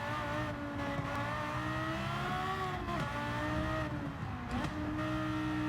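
A Porsche Carrera GT engine in a video game revs and drones continuously, pitch rising and dipping with gear changes, loud and close with a synthetic game-like tone.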